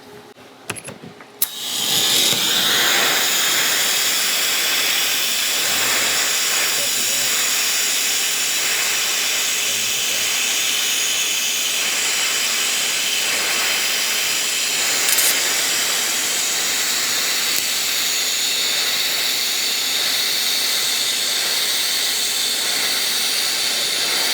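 A TIG welding arc burns steadily as the torch cup is walked along the joint, giving a loud continuous hiss and buzz close by after a brief clatter at the start, with no voices.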